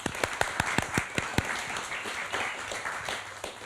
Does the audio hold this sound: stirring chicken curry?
no